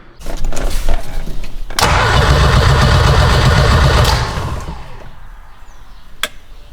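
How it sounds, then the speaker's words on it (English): Turbocharged 6-speed wagon being cranked over, a loud rhythmic starter churn building into a sustained dense engine roar for a few seconds before fading, with a sharp click near the end. "For some reason, the ECU is turning off when I crank it."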